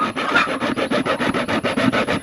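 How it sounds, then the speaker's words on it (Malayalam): A broken piece of hacksaw blade cuts with quick, even back-and-forth strokes, about a dozen rasping passes in a steady rhythm, close and fairly loud, with no talk. "അപ്പോൾ ഇത് വെച്ചിട്ട് നമ്മൾ മുറിക്കാൻ പോവാണ്"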